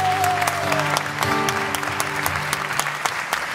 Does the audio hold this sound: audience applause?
yes